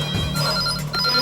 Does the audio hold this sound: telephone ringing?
yes